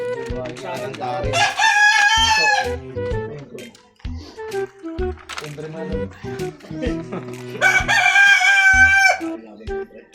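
Two loud, close rooster crows ring out, separated by a few seconds, with clucking and other birds and voices around them.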